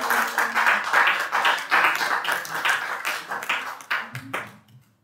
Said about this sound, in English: Please clap her while she comes.